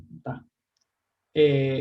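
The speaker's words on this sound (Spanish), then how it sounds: "Cada vez que la neurona hace este spike, ese clic, clic, clic, clic, clic, clic," Recorded neuron spikes played back as audio produce a short burst of clicks after a brief silence, loud and close, with a buzzing tonal quality, alone without talk.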